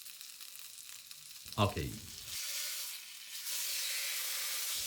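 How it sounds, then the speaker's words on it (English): Pork fat searing in a hot pan while making garlic miso pork: a sudden loud sizzle bursts in as the meat touches the surface, then settles into a steady bright hiss that swells again near the end; a voice says a single word. "Sear the fat for about 1 minute."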